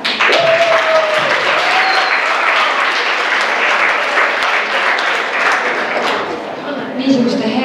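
An audience applauds loudly and continuously at a school singing-impression show final, with dense clapping throughout and brief voices mixed in.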